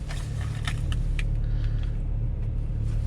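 A 2009 BMW 335i pulling away, heard from inside as a steady low engine rumble and road drone with a few faint rattles near the start, loud and continuous, with no talking.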